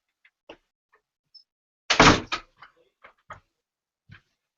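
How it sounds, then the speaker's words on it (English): An indoor door swings shut with a single solid close, preceded and followed by a few small scattered clicks and taps. "Hold on, let me close this door."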